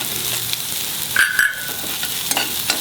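A spoon stirs an egg chop mixture with finely chopped coriander in a frying pan, soft scraping strokes over a steady sizzle, with a couple of sharper clinks against the pan.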